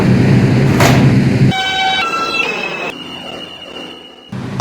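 A Brooklyn-bound 5 express subway train at Grand Central, New York City: a loud rumble gives way to a pair of chime tones as the doors close, then steady whining motor tones as the car pulls out.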